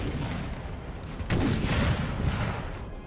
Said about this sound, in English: So, you know, that's about 9 cannons, all pointed at this one force.